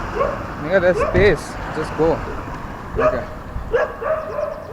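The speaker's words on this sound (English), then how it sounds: "that's a dog" A dog barking outdoors in repeated short yips and woofs, fairly close, interleaved with people talking nearby.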